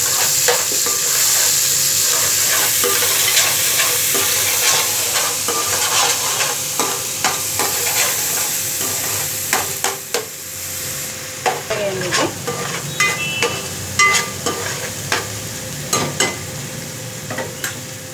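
Onions and green chillies frying and sizzling in hot oil with cumin and mustard seeds, stirred steadily throughout, with scraping clicks of the spoon growing more distinct toward the end; no talking.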